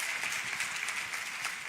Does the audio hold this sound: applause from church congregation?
yes